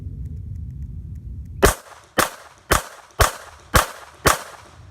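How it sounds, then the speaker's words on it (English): A handgun fires six sharp, loud shots in a trigger control drill, evenly spaced about half a second apart after a brief stretch of low rumble, each report cracking and decaying quickly. "let me fire 6 rounds"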